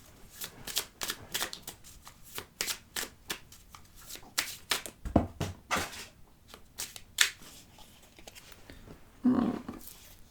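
Tarot cards shuffled and drawn by hand, a quick run of crisp riffling flicks and soft slaps, close and fairly quiet, with irregular bursts and short pauses between them.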